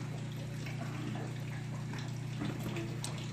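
Water running from a camper sink faucet, a steady splashing flow with a low constant hum beneath it, continuous and fairly close throughout.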